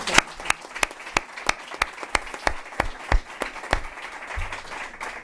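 A small audience claps for Ruth Beitia, the sparse claps landing as distinct, evenly spaced sharp strikes that carry through the whole stretch before thinning at the end.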